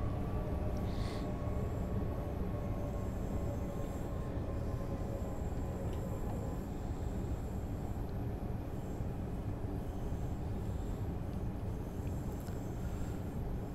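A regional passenger train on the Dresden–Tharandt line in Train Sim World 3 brakes through a snowstorm, a dense steady rumble of rolling wheels and cab noise with faint high squeal tones, continuous and fairly loud throughout.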